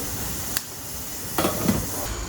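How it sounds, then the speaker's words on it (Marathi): Water at a rolling boil in a covered pot used for steaming stuffed rolls, a steady, soft hissing bubble with a few brief louder spurts, heard alone. "पाण्याला उकळी आलेली आहे"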